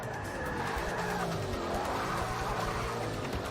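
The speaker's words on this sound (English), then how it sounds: "I'm going to try to use the handbrake at the next turn" A car in Forza Motorsport Apex skids through a handbrake turn, tyres squealing in a long sustained screech over a steady engine drone, loud and close throughout.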